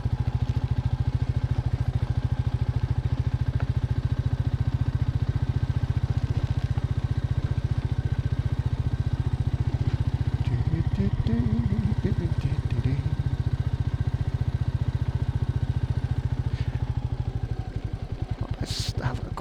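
Royal Enfield Meteor 350 motorcycle engine chugging steadily in second gear on an off-road ride, a loud, continuous low thumping throb with mechanical clatter, easing off near the end.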